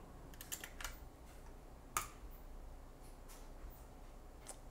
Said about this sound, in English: if I type system.out.println hello